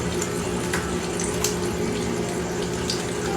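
Running tap water rinsing soap off hands during a handwashing routine, a steady, fairly loud splashing stream that continues unbroken with no voices.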